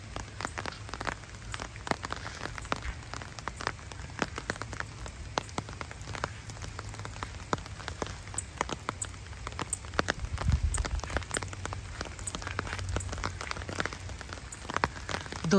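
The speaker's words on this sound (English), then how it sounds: "Though it is raining," Rain falls steadily in a garden with oak leaf hydrangea and trumpet vine, a dense patter of drops tapping on an umbrella and leaves, close and fairly soft, with no talking.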